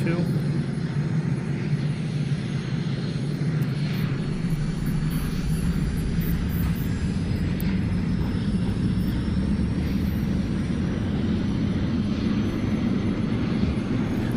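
A steady, loud F-22A Raptor jet engine roar with a rising whine builds during startup in the DCS flight simulator game, constant and close, with a voice speaking over it.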